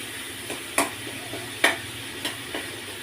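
Tomatoes fry in a pan for lentil fritters, a soft sizzle under a few sharp spoon taps against the pan, spaced irregularly and close by.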